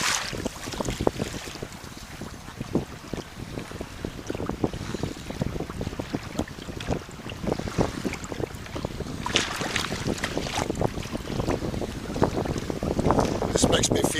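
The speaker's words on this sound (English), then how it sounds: "This makes me feel like I'm on the beach down at Cape Hatteras. All this wind." Strong wind gusts over open ground near the water, buffeting the microphone with a continuous rough roar that surges louder toward the end.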